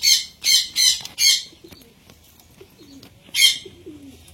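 Pigeons in a loft give several sharp close bursts of flapping or scuffling, then quiet low coos and a final burst.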